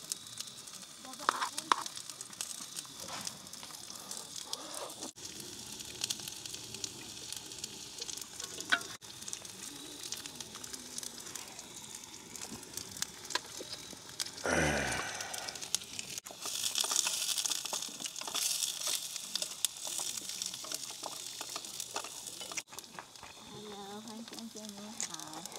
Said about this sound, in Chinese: 煎节瓜